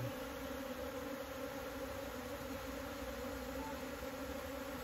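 Wild bees move into a hive box during a colony transfer, making a steady, dense buzzing hum that continues without a break and with no voices.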